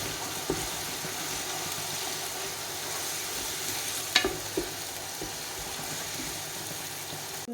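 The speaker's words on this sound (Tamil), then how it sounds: "இது நல்லா பச்சை வாசனை போகிற அளவுக்கு நல்லா வதக்கி விட்டுக்கலாம்" Paste for Dindigul chicken biryani sautéing in a pan, a steady close hiss of frying with a few soft stirring knocks and one sharper clink near the middle, no talk.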